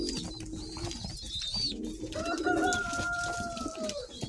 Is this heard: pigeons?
yes